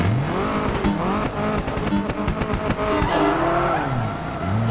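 A racing car in Project Gotham Racing howls through rapid gear changes, its engine pitch sweeping up and down with brief tire squeal, loud and close throughout.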